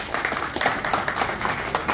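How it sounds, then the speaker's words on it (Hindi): Audience at a political rally applauding a local chairman on stage, dense continuous clapping from many hands at moderate distance, steady throughout. "इनका अभिनंदन करिए तालियों से"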